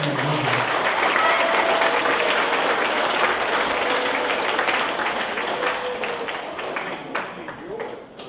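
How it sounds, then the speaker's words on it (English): Loud, dense applause from a large crowd fills the space, with a few voices mixed in, tapering off slightly near the end. "Let's give them a round of applause"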